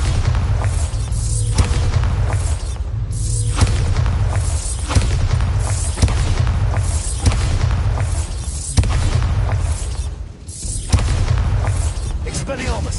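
A Bombarda blasting spell exploding in a video game: loud, continuous booming with deep rumbling and repeated heavy blasts, barely letting up throughout.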